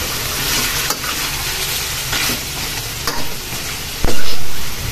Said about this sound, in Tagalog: So, hahaluin natin. Halo ng halo.